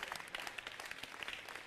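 Faint, distant applause from a church audience, a quick patter of many hands clapping throughout.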